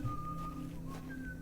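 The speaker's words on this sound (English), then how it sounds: "I was gonna say I could hear some whistling" Whistling in the adventure game The Excavation of Hob's Barrow, a thin sustained tone that slides from one note to a higher one over a low ambient game backdrop, moderately quiet.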